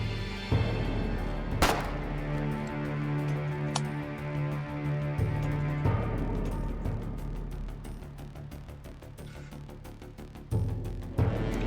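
Sharp gunshot cracks from the video game Foxhole ring out now and then over a dense, loud bed of rumbling music and game noise.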